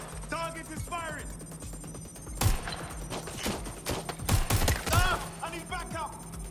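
Gunfire from an enemy target in the game Watch Dogs Legion: several sharp loud shots and bursts in quick clusters, mixed with voices talking over a low electronic hum.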